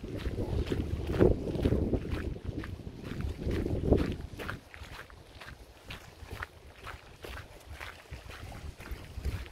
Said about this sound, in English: this sound of the water against the shore